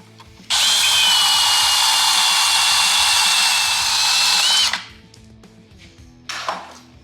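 A loud power tool whines steadily for about four seconds as it cuts the edge off a metal John Deere axle being fitted to a Wheel Horse mower, then stops, followed by a brief second burst.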